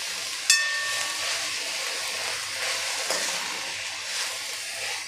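Drumstick leaf greens being stir-fried in a pan over a low gas flame, giving a steady soft sizzle and hiss with a brief clatter near the start, no talk.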